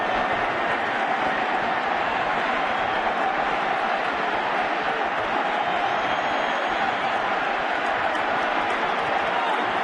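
Baseball stadium crowd during World Series Game 1 in October 2010 cheering loudly and continuously, a thick roaring wash of voices with no pauses, steady in level from start to finish.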